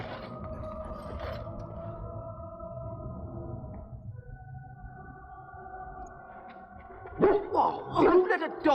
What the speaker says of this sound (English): Oh, you let a dog in here!